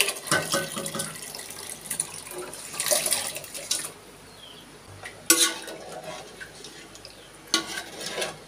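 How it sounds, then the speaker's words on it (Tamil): Water being poured and stirred into a pot of mutton curry on the stove, with splashing, clinking and sizzling that comes in bursts, loudest around a few sharp moments, then settles into a low background bubbling. "தேவையான அளவு தண்ணியும் சேர்த்துட்டேன், மட்டனும் சேர்த்துட்டேன்."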